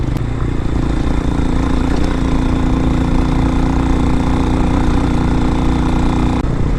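A 2023 Hawk-X 250 motorcycle engine droning steadily while riding on mixed roads, a loud continuous hum with constant rumble and no speech over it.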